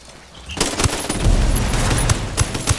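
Enemy gunfire in Ghost Recon Breakpoint: a quick hush gives way to dense, loud bursts of automatic shots and scattered single cracks that keep on with no let-up, mixed with sharp transients.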